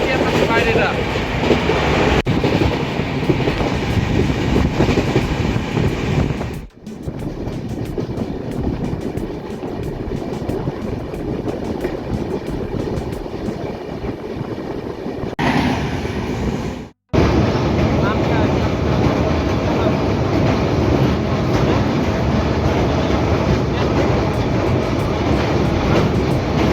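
The Purushottam Express passenger train runs at speed between Cuttack and Bhubaneswar, heard from inside a carriage. A loud, continuous rumble carries rhythmic wheel clatter and briefly drops away twice, as if passing structures.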